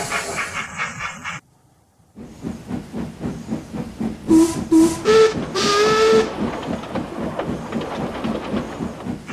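A steam engine chuffs rhythmically, with a brief pause, then several short whistle toots and hissing steam over the steady puffing.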